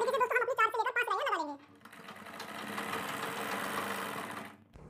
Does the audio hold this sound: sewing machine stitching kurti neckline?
yes